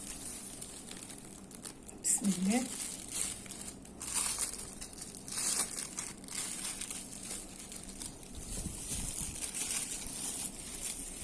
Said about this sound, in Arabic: ونعبي فيه الكريمه.